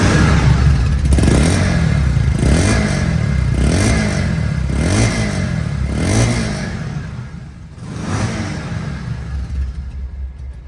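A second-hand 2022 Bajaj Pulsar motorcycle idles near and steady, its engine rumbling with a series of regular throttle blips that rise and fall before settling into a quieter idle toward the end.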